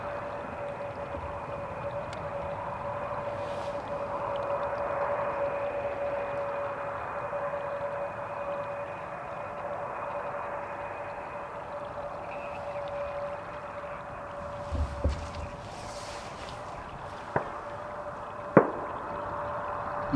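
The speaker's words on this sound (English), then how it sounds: "I can hear an explosive going off. So one of the Schiphol scarecrows does seem to be firing off around back in the distance" A bird-scaring gas cannon at Schiphol airport fires a few faint, distant bangs over a steady drone of airport and engine noise, with separate sharp reports spaced across the final few seconds.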